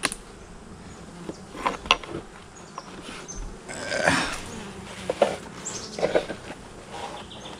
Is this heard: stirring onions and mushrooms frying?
no